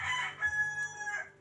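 A gamefowl rooster crows once, a clear nearby cock-a-doodle-doo rising and trailing off, heard alone at moderate volume.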